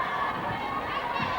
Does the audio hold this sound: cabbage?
no